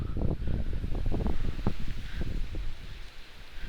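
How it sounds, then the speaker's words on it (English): Wind buffets the microphone in a podcast recording, a continuous low rumbling roar with gusty thumps that swell and ease throughout, loud and close with no voice. "this wind is distracting"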